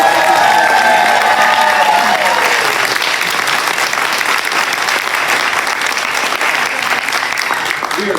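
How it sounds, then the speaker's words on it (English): A large crowd at a Maryland get-out-the-vote rally applauds loudly and continuously for Tazim, a dense wash of clapping with scattered cheers filling the whole stretch. "can we please give a huge round of applause to Tazim"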